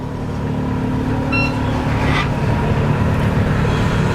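An engine on a Lucia 40 catamaran turns over and catches, settling into a steady rumbling idle after a brief electronic beep, close and fairly loud.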